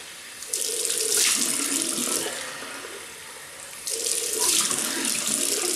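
A bathroom tap runs while a face is wetted for shaving, with two bursts of loud rushing water separated by a quieter, splashing stretch.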